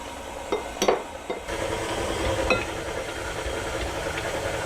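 An electric mixer beating cookie dough with eggs, a steady whirring hum with a few clanks at the start, no talking.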